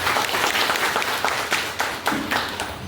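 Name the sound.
audience applauding at a company meeting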